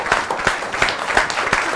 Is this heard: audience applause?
yes